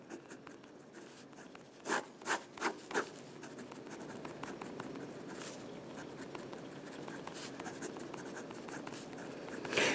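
A pen or marker scratches across a surface while a Punnett square is written out during a Mendelian genetics lecture, with quiet, steady strokes and a few sharper taps near the start and no talking.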